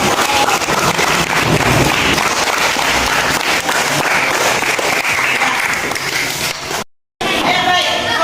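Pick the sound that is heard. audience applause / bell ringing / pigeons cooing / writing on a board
audience applause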